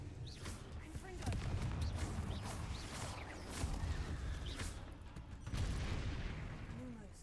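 Spell blasts in the video game Hogwarts Legacy, a series of muffled booming bursts and crackles repeating irregularly at moderate distance, set against a low rumbling game ambience.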